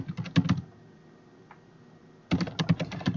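Quick typing on a computer keyboard, with a dense burst of close, crisp key clicks, a near-silent pause, then another rapid run of keystrokes.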